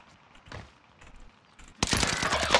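In the video game The Cycle, a burst of loud, dense gunfire breaks out suddenly after a stretch of quiet game ambience and faint clicks, and it continues to the end.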